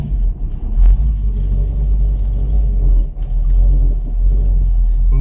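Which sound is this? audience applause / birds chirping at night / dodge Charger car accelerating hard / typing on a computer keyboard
dodge Charger car accelerating hard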